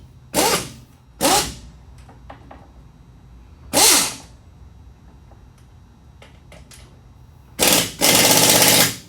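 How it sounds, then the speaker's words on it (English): A pneumatic impact gun tightens wheel hub bolts on a 2007–2012 Nissan Sentra in several short, loud, rattling bursts separated by quiet gaps, with the last burst running longest. "The 3 that I could tighten up with the impact gun are done."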